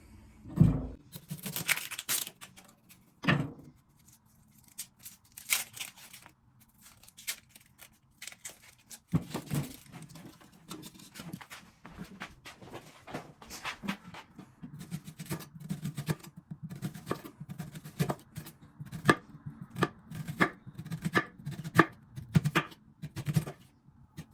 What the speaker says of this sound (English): I'm gonna go ahead and cut up my small onion